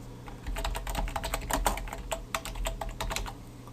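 Quick, irregular typing on a computer keyboard while coding HTML5 and JavaScript, close and fairly soft clicks running steadily for a few seconds with no talk.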